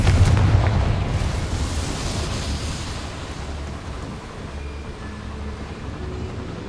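A Confringo spell blast in the video game Hogwarts Legacy: a sudden burst at the outset that fades into a low, decaying rumble, heard alone.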